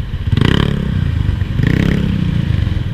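A motorcycle with an aftermarket muffler passes close by, its loud exhaust rumble swelling in two throaty bursts over a steady engine drone, with no talking.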